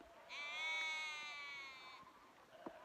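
Sheep bleat in open Scottish hill country, one long, wavering, quavering call near and clear, fading out with a faint rustle afterward.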